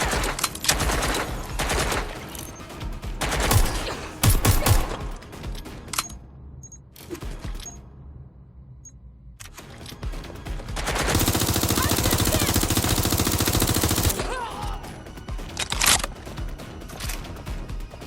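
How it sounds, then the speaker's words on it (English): Gunfire in Watch Dogs: Legion, loud bursts of automatic shots and sharp cracks coming in clusters, with a quieter gap midway and a long sustained roar of fire near the end. "I'm getting shot at"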